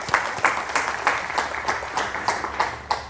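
An audience at a Majelis Taklim religious gathering in East Java claps in a steady, rhythmic unison beat, about three claps per second, loud and close.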